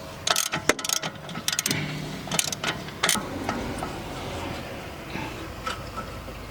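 A ratchet works a bolt on BMW M140i suspension during a lowering job, with a run of quick, close clicking and clattering mechanical taps followed by softer handling noise.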